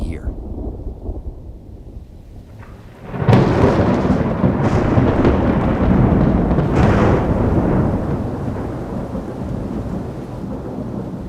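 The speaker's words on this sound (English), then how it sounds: "But today's storm dumped a full foot of rain, a tenth of the year's total in just one day." Heavy rainforest rain hisses steadily, then a loud, close crack of thunder breaks in and rolls on in a long rumble over the downpour.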